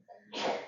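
A single close sneeze during a lecture: a short sharp inhale followed by a loud explosive burst of breath.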